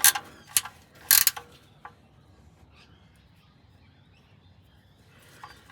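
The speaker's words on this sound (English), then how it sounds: "14mm spanner." 14mm spanner working a fastener during an oil change on a Toyota 2GR-FE V6 engine, a few quick close metallic ratcheting clicks at the start, then faint shuffling and a soft click near the end.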